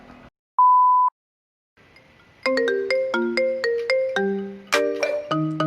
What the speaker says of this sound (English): you would play the whole ringtone